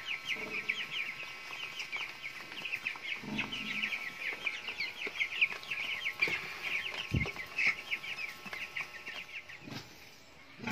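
A flock of 45-day-old broiler chickens clucks and chirps continuously at a moderate distance, with scattered bumps and shuffling noises among them.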